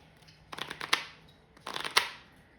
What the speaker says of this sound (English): I love the sound of the shuffle.